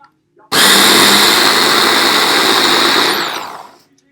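A kitchen blender blending houmous starts abruptly and roars loudly and steadily for about three seconds before winding down to silence.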